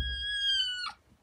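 A single cat meows alone at close range, one clear drawn-out call lasting about a second with a brief rougher tail at the end, no talk over it.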